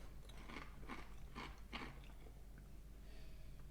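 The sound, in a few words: eating Carolina Kettle Rosemary Garlic kettle chips, crunching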